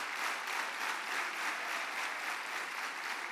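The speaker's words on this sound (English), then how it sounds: "Give him a round of applause." Dense, steady applause from an audience at the Kansas FFA Convention session, filling the whole stretch at even loudness with no voices.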